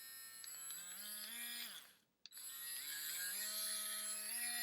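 A NAKOOS cordless rotary tool runs with a steady high whine that ramps through speed changes, cuts out briefly near the middle with a click, then spins back up and holds a loud, even tone.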